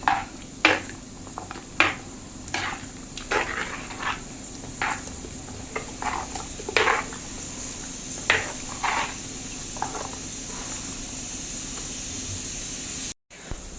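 Ingredients being stirred and mixed with water in a pot for a mackerel and drumstick curry, with repeated scraping and clinking strokes of a spoon against the pot at an irregular pace, close up with no talk.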